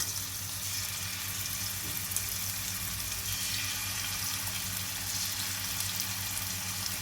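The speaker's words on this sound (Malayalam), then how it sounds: "നമുക്ക് ഓരോരോ കഷ്ണങ്ങളായി ഇതിലേക്ക് ഇട്ട് ചിക്കനെല്ലാം പീസസ് എല്ലാം ഫ്രൈ ചെയ്ത് വറുത്തെടുക്കാം" Boneless chicken pieces fry in oil with a constant, dense sizzling hiss that holds steady throughout.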